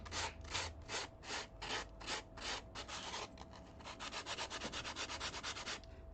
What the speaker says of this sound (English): I can do some just basic sanding.